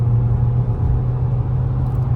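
A 2018 Volvo V60 with a 2.0 diesel and Aisin automatic gearbox accelerates hard, its engine revving in a steady, loud droning hum heard from inside the car, with no speech.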